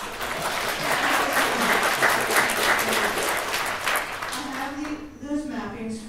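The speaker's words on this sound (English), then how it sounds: "We're not going to clap or boo or hoop hurrah" An audience at a city council meeting applauds with steady, dense clapping that fills the room for several seconds and then trails off as a voice starts speaking.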